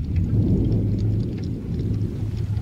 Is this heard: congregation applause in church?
no